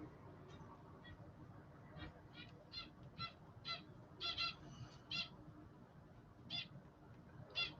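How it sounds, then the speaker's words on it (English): A pet bird calls near an indoor room in a series of short, repeated chirps and squawks, irregularly spaced, faint over a low background hum, with no talking. "My bird's talking to me."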